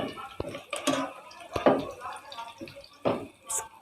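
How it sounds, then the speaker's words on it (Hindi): Water poured or dripping onto softened onions in a pan while making a paste for beef kofta curry, a few short splashy bursts under a person's talking. "थोड़ा सा पानी शामिल करेंगे इसके अंदर।"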